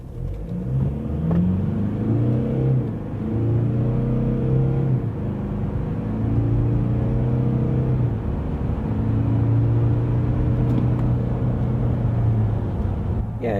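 A 2024 Toyota Land Cruiser with a 2.8-litre four-cylinder diesel accelerates hard in sport mode, its engine note rising and dropping through several gear changes over a steady road rumble inside the cabin.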